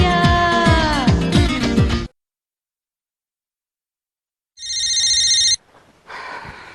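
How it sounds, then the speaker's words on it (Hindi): A telephone rings in one loud electronic burst of about a second, in an old Indian TV comedy serial. It comes after a stretch of music and then dead silence, and some muffled noise follows. "फोन बज रहा है।"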